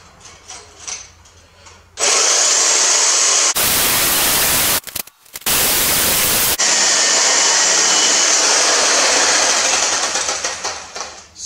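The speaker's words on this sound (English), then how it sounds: "tell me what you guys think about the Sawzall" A Sawzall reciprocating saw cuts through bolts during a Dana 44 straight axle swap on a Chevy S-10, producing a loud, harsh buzzing roar that starts abruptly, cuts out briefly midway, then resumes and gradually trails off.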